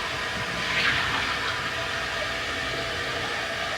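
Water runs steadily from a tap while items are quickly washed out, a constant hissing rush with slight splashy variation near the start.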